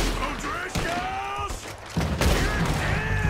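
Gunfire in a video game: several sharp shots ring out a moment apart amid game sounds, with someone talking over the action.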